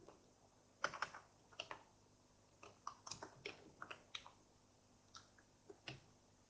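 Fingers type on a computer keyboard at a pharmacy workstation, giving quiet, close, irregular key clicks in small bursts with short pauses, and no voices.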